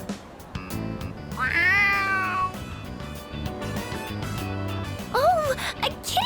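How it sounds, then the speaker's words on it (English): A stray cat in the video game Persona 3 Reload meows several times, drawn-out rising and falling cries set against continuous game music. "Oh, a kitty cat! Aw, he's so cute! I did hear there were lots of strays around here."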